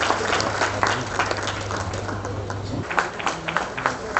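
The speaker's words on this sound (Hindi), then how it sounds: "जोरदार तालियां होनी चाहिए" An audience at a Jharkhand World Indigenous Day event with the Chief Minister breaks into applause, a dense patter of clapping over a low hum with some crowd noise.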